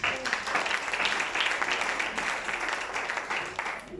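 A church congregation applauds steadily through the whole stretch in a dense, continuous wash of clapping, with a faint voice mixed into the crowd.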